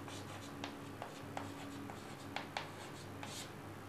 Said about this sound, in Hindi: चल लिखता हूं मैं